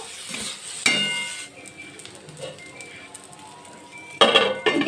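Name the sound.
stirring bitter gourd curry with salt and turmeric in a pan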